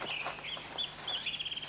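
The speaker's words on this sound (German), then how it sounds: "Komm schon, die Hühner warten da vorn." Chickens cluck and squawk at close range in a short, busy burst of overlapping calls with a faint background hum.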